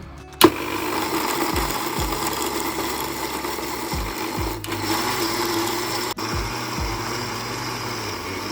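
An electric mixer whirs continuously, blending carrot cake ingredients with cardamom and cashews. The grinding hum is steady and fairly loud, with a sharp knock at the start and brief dips where the motor pauses or shifts.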